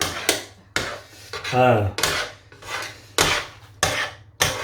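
A heavy pot of fish stringhopper (idiyappam) mixture is stirred hard at a street food stall, giving repeated loud scraping and knocking strokes about every half second, with a brief tonal squeal in the middle.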